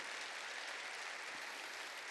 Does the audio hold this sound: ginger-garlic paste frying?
no